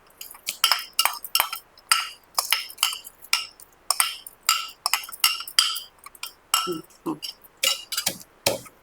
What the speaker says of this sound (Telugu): పోపు వేసేసాయి, పోపు దంచేద్దాం.